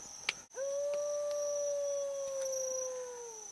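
A single long, drawn-out howl carries across the Australian desert in an exchange with a dingo, preceded by a brief sharp click; it is steady, clear and fairly close, with no talk.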